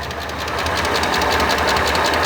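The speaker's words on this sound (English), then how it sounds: "Sounds like it's got a slight lifter tick." Mercedes SL600 engine idling after sitting unused for years, a steady close mechanical drone with a light, rapid ticking pulse running through it, consistent with a slight lifter tick, no talking.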